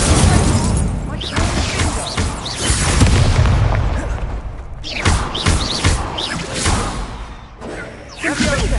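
An Incendio fire spell cast in Hogwarts Legacy during combat, loud booming whooshes and thuds in rapid succession, mixed with other spell blasts, impacts and busy game effects.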